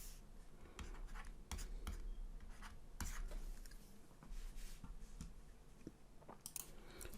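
Pen writing by hand on paper during a math working session, with scratchy strokes and tapping in short bursts, fairly close and steady, no talking.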